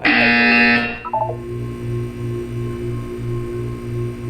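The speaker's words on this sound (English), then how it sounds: "When you hear the buzzer, look down at the floor." A loud harsh electronic buzzer from the video game Portal 2 sounds for about a second, then cuts off and leaves a low pulsing mechanical hum with faint chirping tones.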